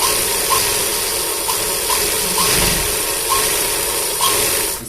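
A sewing machine stitches trouser fabric in a steady mechanical whir, with small regular clicks roughly every half second, close and continuous without speech.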